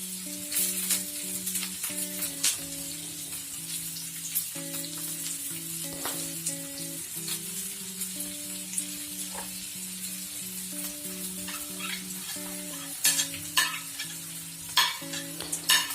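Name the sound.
roasting spices and tomatoes in a pan for egg curry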